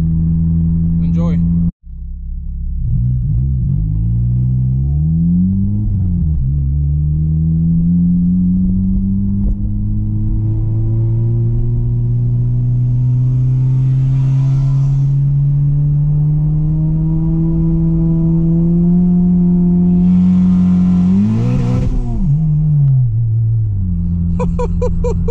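A 400 hp turbocharged Honda Civic Si brake boosts and then accelerates hard, its engine note climbing steadily in loud rising revving sweeps with a brief drop as it shifts, heard close from inside the car.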